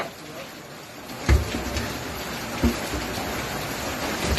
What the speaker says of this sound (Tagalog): Ngayon kasi umuulan.